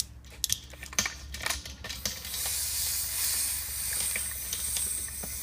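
Compressed air hisses steadily from an air compressor in a workshop, a broad rushing noise that starts after a few sharp clicks and keeps going at an even level.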